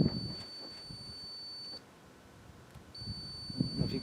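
A Dometic RV heater control gives a long, thin electronic beep, goes quiet for about a second, then beeps again, faint and steady against low room noise.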